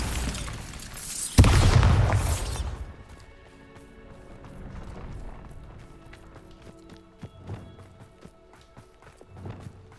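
A Bombarda blasting spell goes off in a Hogwarts video game as one loud, close explosive burst that fades over about a second, followed by quieter rumbling and a few faint thuds.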